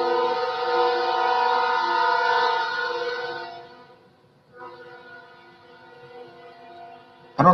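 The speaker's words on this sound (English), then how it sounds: "the Kansas City Southern Railroad insists on going up and down this railroad track" A Kansas City Southern Railroad train sounds loud and steady as it passes, with a sustained, harmonic horn-like drone that fades away, then returns more quietly. A sharp burst comes at the very end.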